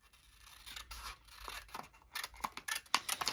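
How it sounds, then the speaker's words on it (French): Scissors snip through paper while cutting out a rectangle by hand, a string of close, crisp cuts that build from soft rustles to sharper clipped strokes, with no talking. "Donc, je découpe un rectangle."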